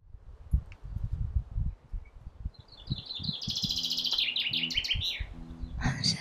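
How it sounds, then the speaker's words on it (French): Birds singing outdoors among tall trees, with scattered chirps over soft rustling and thuds, then a bright warbling trill and a few repeated calls near the end. "Les chants d'oiseaux à des moments opportuns."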